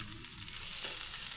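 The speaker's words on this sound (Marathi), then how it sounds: "मासा फ्राय करायला ठेवलाय." Fish frying in a pan with a steady, close hiss and crackle of hot oil, loud and continuous throughout.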